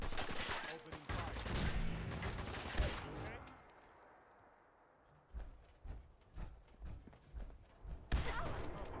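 Rapid bursts of gunfire in Fallout 4, loud volleys at the start and again near the end, with a quieter stretch between and scattered shots under faint voices.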